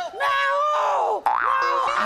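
A man on a comedy stage voices an imitation of a peacock's call: two loud, drawn-out wailing cries that rise and bend in pitch, separated by a short break.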